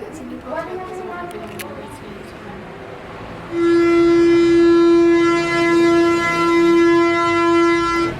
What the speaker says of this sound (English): That horrible noise, it sounds like a war siren, is to tell you that it's 6 o'clock.